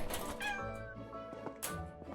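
A sick kitten meowing in the shelter simulation game Animal Shelter 2, a drawn-out meow followed by a shorter one, fairly quiet, with faint background game sounds.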